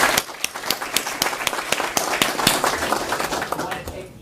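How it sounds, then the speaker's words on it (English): Audience at a school board meeting applauding a school recognized as a School to Watch, steady distinct handclaps through about four seconds, fairly close with a few voices mixed in. "Have a big round of applause for you."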